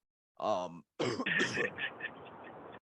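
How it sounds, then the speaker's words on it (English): Short bursts of coughing and throat clearing, close and fairly loud, separated by brief pauses. "as I cough my way out of this episode"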